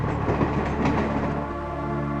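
A train runs along the rails with a steady, loud, close rumble and a continuous rolling roar that holds for the whole stretch, with no voices over it.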